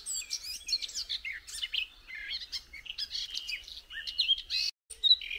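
A songbird sings outdoors at an off-grid van campsite, giving a rapid, continuous run of bright chirps and warbled trills, close and clear, with no talking.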